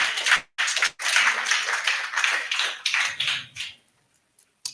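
An audience at a Kenyan church gathering claps in a burst of applause, loud and close, with a brief gap near the start and the clapping fading out toward the end.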